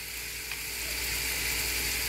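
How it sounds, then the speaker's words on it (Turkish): Sliced zucchini sautéing in a pan on low heat for a ring-shaped squash meze, a steady, even sizzle and hiss that holds throughout without talk. "Şurada da hemen kabaklarımı soteliyorum."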